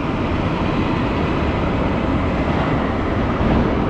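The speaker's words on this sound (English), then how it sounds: "this is a tram" A tram in Luxembourg rumbles past as a broad, steady roar of rolling noise that stays loud and even throughout, with no talk.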